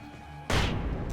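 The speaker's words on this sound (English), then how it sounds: "Flashbang out." Sudden loud flashbang blast in Alan Wake Remastered, erupting from a quiet hum into a sustained roaring burst that holds loud to the end.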